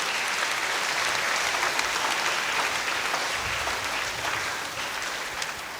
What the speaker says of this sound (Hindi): हम लोग ताली मार करके इन बच्चों को बधाइयाँ देंगे।